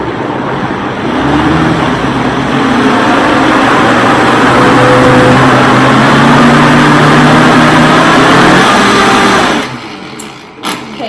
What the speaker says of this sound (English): And then I'm just gonna go ahead and blend this up.